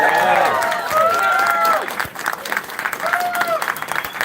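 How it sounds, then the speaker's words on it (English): An audience applauds at a town-hall style political speech in a Manchester, New Hampshire arcade venue, loud dense clapping with cheers and a voice over it, then thinning into scattered claps. "Let's give this man a round of applause."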